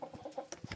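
A hen clucks on a poultry farm in a run of quick, soft, rhythmic clucks at a faint, distant level, with no talk over them.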